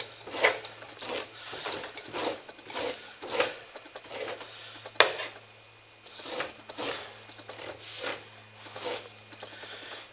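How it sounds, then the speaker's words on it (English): Stiff brush strokes worked repeatedly over a skinned raccoon pelt to pull burrs from the fur, a steady run of close, scratchy rasps with a low background hum. "you want to make sure you get all the burrs and stuff out of them by brushing them"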